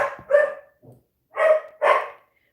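A whiny indoor dog lets out several sharp, close barks, two quick ones at the start and two more after a pause, with a small yip in between and silence elsewhere.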